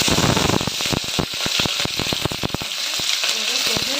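Cumin seeds and curry leaves hit hot oil for tomato gojju, giving a loud, close, crackling sizzle with rapid popping spits throughout.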